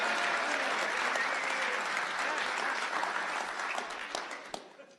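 At a 2020 town inauguration an audience breaks into applause, a full, dense clapping from a large crowd that holds steady and then gradually fades out in the last second.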